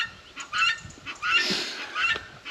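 Guinea fowl on a Portuguese barn property call in a few loud, harsh, grating bursts, close by and in quick succession, with no talk over them.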